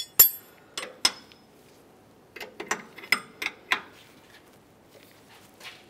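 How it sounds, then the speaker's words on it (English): A 21mm wrench tightening a tie rod jam nut gives sharp metallic clinks and ticks, a couple of isolated strikes followed by a quicker cluster of close clicks, with quiet gaps between. "we'll continue by tightening the jam nut with our 21mm wrench"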